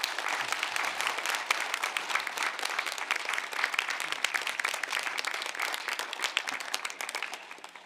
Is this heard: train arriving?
no